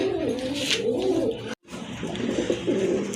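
A pair of white-and-black Gorra pigeons coos steadily and close by, their soft rolling calls repeating across the clip with a brief silent break midway.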